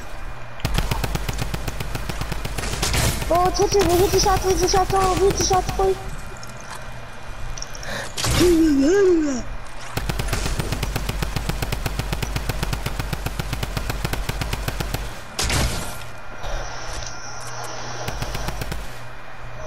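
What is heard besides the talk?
gunfire shooting in a video game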